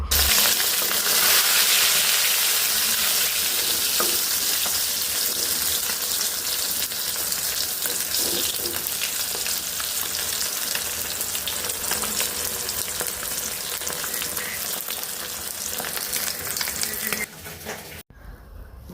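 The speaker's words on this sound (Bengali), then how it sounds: "আমি প্রথমে মাছটা ভেজে নিচ্ছি" Fish frying in a pan sizzles loudly and steadily with a dense, continuous hiss that stops abruptly near the end.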